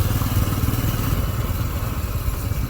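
A motorcycle rumbles steadily on a ride to a garage, its engine loud and close with a constant throbbing drone and no talking.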